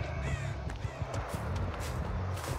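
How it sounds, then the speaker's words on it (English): Crows caw repeatedly in the Dead by Daylight game as birds take flight, several harsh calls over a rustling, noisy background with no talking. "Saw some birds moving."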